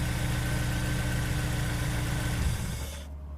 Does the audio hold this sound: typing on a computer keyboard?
no